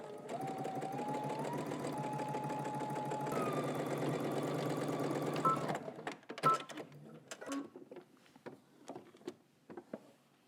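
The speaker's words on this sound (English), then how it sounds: "I'm stitching 3/8 of an inch away from the cut edge since I'm doing a raw edge" A sewing machine runs steadily, stitching a raw-edge pocket seam 3/8 inch from the cut edge for a Simplicity S9929 garment, whirring continuously at close range for about six seconds before stopping, followed by scattered light handling clicks and taps.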